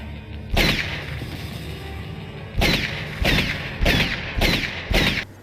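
Gunfire from The Terminator film: a loud, booming shot, then after a pause four more heavy blasts in fairly quick succession, each with a short echoing tail, with no talking.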